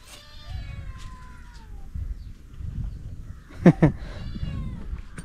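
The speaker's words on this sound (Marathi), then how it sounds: "अरे मांजर" Domestic cat meowing once or twice in a short pair of calls, fairly close, over rural outdoor background noise, with a faint whistling tone earlier.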